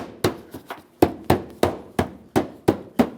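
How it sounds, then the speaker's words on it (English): Plastic clips on a 2007-2013 Acura MDX front bumper cover pressed in by hand near the fender, giving about nine sharp, close knocks and clicks in a quick irregular series with no talk. "Press it in, listen for a click."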